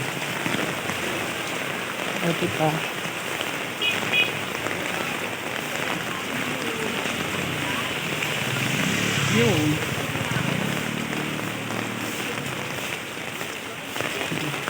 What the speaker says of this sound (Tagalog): Biglang buhos ang ulan.